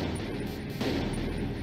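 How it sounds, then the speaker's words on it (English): Dense, nonstop video game gunfire roars throughout a Friday Night Funkin' mod, shots blurring into a loud continuous barrage with heavy booming underneath. "The gunshots, bro"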